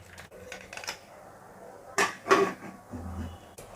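Metal pressure cooker lid clanks and clicks shut on a pot of Bengali-style mutton paya (goat trotter) curry, two sharp knocks close together followed by a softer clunk in a quiet kitchen.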